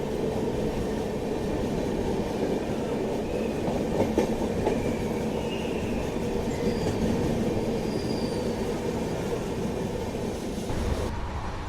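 A passenger train rolls steadily along the rails on an unreserved Tirupati to Madurai journey, its continuous rumble and clatter heard from onboard, with faint wheel squeals rising briefly over the noise.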